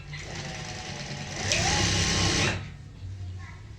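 A sewing machine stitches a halter neck blouse seam in a brief, quiet, whirring run of about a second, with a softer mechanical hum before and after.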